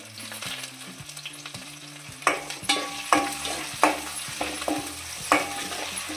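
Mustard-type spices and fresh green curry leaves fry in hot oil for a brinjal curry, giving a steady sizzle with sharp spitting pops and occasional stirring clatters, close and moderately loud with no talking.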